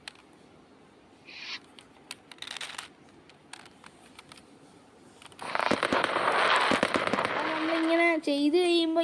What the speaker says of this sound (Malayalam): നമ്മളിങ്ങനെ ചെയ്ത് കഴിയുമ്പോൾ ഇങ്ങനെ പടക്കമെല്ലാം തെറിച്ച് പൊട്ടിക്ക്.